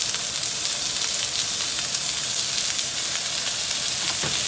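Onion, cilantro, basil, ginger and pepper frying in a little oil for Guyanese vegetable fried rice, a loud, steady dense sizzle with crackling spits throughout, close up.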